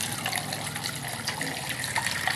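Steady splashing of water pouring into a container, a continuous bright rush with no voices.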